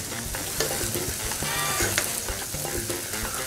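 A mustard-tomato sauce for flank steak bubbling and sizzling in a pan while a spoon scrapes through it, a dense continuous frying hiss with light stirring knocks, close and steady.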